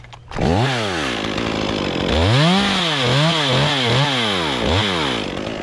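A chainsaw makes a back cut into a tree, its engine revving repeatedly up and down as the blade bites into the wood, loud and close throughout.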